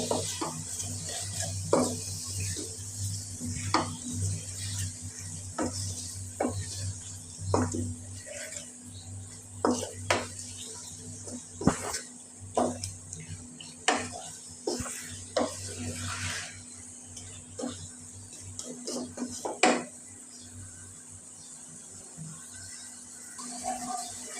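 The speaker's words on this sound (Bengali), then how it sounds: "হলুদ লবণ দিয়ে মাংসটা আমি আগে একটু নেড়ে দিব" Beef with turmeric and salt stirred in a pot, a run of soft knocks and scrapes of a spoon against the metal over a low steady hum, fairly quiet and close.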